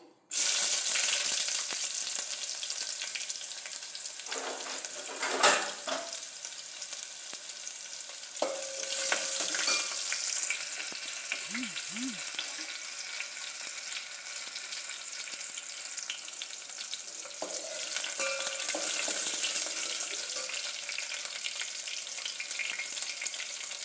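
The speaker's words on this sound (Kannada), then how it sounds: "ಅರ್ಧ ಈರುಳ್ಳಿ ಹಾಕ್ತಾ ಇದ್ದೀನಿ" Half an onion fries in a pan with a steady, close sizzle that runs the whole time, broken by occasional clatters of stirring and scraping.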